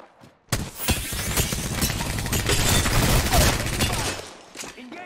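Rapid enemy gunfire in the video game Apex Legends: dense, sustained bursts of automatic shots and crackling impacts, loud and continuous from start to nearly the end, with a voice speaking faintly underneath.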